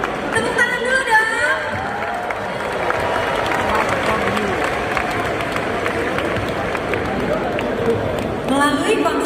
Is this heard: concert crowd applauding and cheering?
yes